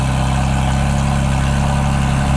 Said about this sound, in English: I'll let you hear the flat 6 9000 RPM red line